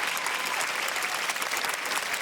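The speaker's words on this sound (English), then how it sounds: "Everybody, big round of applause for the gorgeous Fiona." Studio audience at a comedy panel show breaks into sustained applause, a dense steady wash of clapping filling the room with no voices on top.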